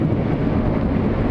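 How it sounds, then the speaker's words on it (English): A strong gust of wind buffets the microphone outdoors near a driving test centre, a loud, steady low roar with no break for over a second. "So I just got hit by the biggest bloody gust of wind ever"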